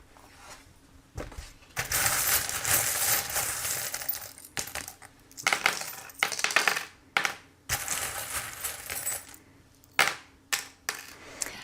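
Small charms tossed and scattered for a tarot-style reading, a run of light clattering impacts with quick rattles, then several separate sharp clicks and drops, close and fairly loud with no talking.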